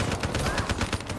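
Rapid automatic gunfire from the video game Black Ops 3, a dense burst of repeated shots, loud and close, with no talk.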